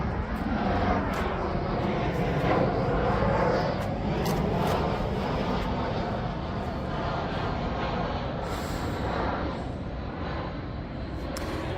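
An EasyJet airliner flying overhead, a broad steady roar that swells and slowly recedes, heard indoors at moderate loudness with no talk over it.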